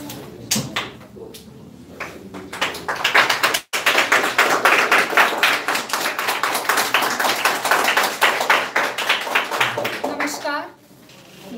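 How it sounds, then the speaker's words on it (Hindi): An audience at a spring festival program gives loud, sustained applause to welcome a speaker, with dense clapping for several seconds before it fades out. "जोरदार तालियों से स्वागत कीजिए।"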